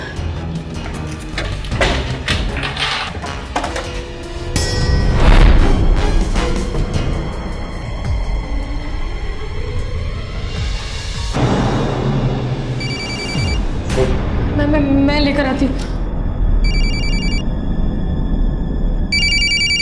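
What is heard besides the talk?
telephone ringing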